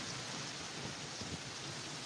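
Steady rain pouring down in a village, a dense continuous hiss of drops on surfaces with no voices, close and even throughout.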